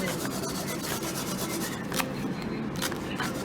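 Garlic rasped against a grater in a kitchen while gyoza filling is prepared, a run of quick scraping strokes in an uneven rhythm, close and moderately loud.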